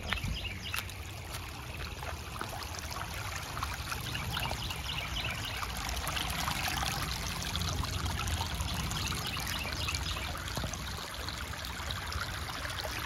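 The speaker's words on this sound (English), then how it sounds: "that's all the water going down and going right there." Water trickles down a creek in a close, steady, quiet wash of running water that continues without a break and without any talk.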